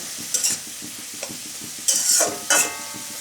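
Spatula scraping and stirring spinach in a hot pan, with bursts of sizzling at about half a second, two seconds and two and a half seconds over a quieter background of rhythmic stirring, close and alone.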